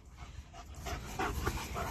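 A dog pants hard after fetching a thrown object, with quick rhythmic breaths close to the microphone, quiet but clear, and no talking.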